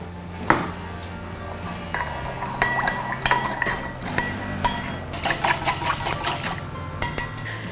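A spoon clinks and scrapes against a bowl as a sauce with mustard powder is stirred for cucumber pickle, a series of bright, uneven taps that grow busier toward the end.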